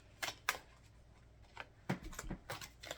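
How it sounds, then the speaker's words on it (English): Tarot cards being shuffled by hand: soft, papery riffling bursts, two sharp ones early and then a looser run of flutters, quiet and close with no voices. "Just gonna get a few more shuffles here"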